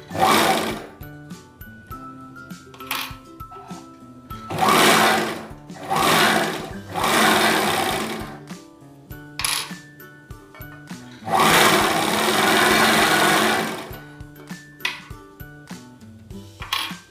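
A sewing machine stitches a baby turban hat from fabric in loud, close bursts of rapid whirring. The bursts run from short stabs to longer runs, with quiet pauses between them where only small clicks of handling are heard.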